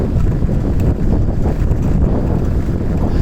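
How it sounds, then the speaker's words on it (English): Strong wind buffeting the microphone in a continuous low roar in Kalimpong, loud and close, with no other clear sounds. "Windy day here in Kalimpong."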